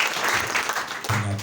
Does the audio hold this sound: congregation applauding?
yes